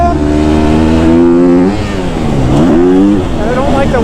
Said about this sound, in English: I don't like how easily this bike stalls in low RPM.